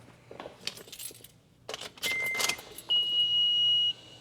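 Keys jangle and clink in the ignition of a Toyota FJ Cruiser, a few close metallic rattles, followed by a steady electronic chime tone as the key turns on.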